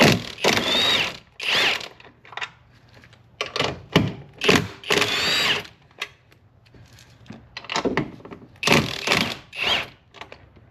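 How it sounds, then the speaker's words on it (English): An impact wrench removes 15 mm top nuts from a factory S650 Mustang front strut, firing in several short bursts of rattling hammering with brief pauses between them, close and fairly loud. "so with the impact, step 1, again, 15 millimeter up top. Let's remove these 3."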